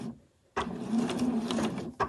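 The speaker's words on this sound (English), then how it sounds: "pop over to our sewing machine and just stitch through there, just to hold those ribbons in place" A domestic sewing machine running a straight stitch through ribbons with plain white all-purpose thread and a universal needle, a steady close whirring burst lasting over a second, followed by a brief restart.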